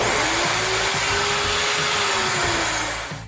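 DeWalt metal-cutting chop saw blade spinning up to full speed, a loud, close whine that rises and holds steady for about three seconds and then starts to fade.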